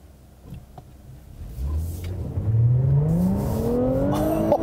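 A 2017 Infiniti Q60 Red Sport with a 3-liter twin-turbo V6, in Sport Plus mode, pulls hard at full throttle. The engine note rises steadily and grows louder over several seconds, close and with no talk.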